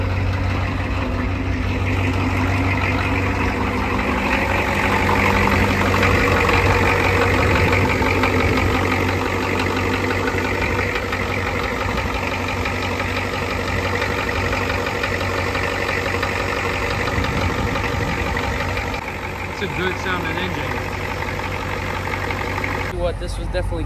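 A Bullnose Ford diesel truck, fitted with a new Mishimoto radiator, idles loudly and steadily with a rough, knocking diesel clatter that runs unbroken for over twenty seconds, with faint voices underneath.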